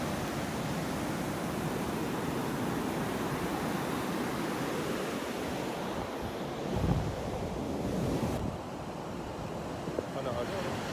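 Ocean waves break and wash onto a shore in a steady, loud roar of surf, with wind buffeting the microphone and people's voices faint underneath.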